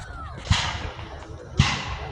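Two Civil War reenactment cannon shots boom out at Old Bedford Village, each a sharp, loud blast with a broad crack, evenly spaced about a second apart over steady outdoor background noise.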